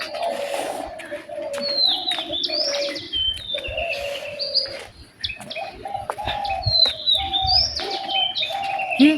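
Birds chirp and tweet beside a foggy roadside at dawn, with a pigeon-like coo under repeated bright calls, close and fairly loud throughout and no one speaking.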